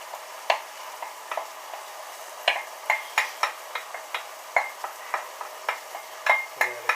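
Vegetables being stirred in a pan for a pasta bake make a low simmering sizzle under repeated sharp clicks and taps of a utensil against the pan at an irregular, steady pace.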